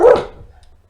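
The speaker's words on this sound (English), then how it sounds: "There's a noise outside and the dog reacted to it." A single loud, close dog bark at a noise outside, one sharp woof fading quickly into quiet.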